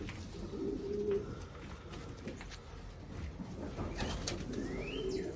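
Soft, low cooing from racing pigeons in a loft, steady and faint beneath ambient rustle and occasional distant chirps, with no talking.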